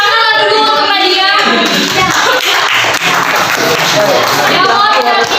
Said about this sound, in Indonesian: Kita beri tepuk tangan dulu untuk Nadia.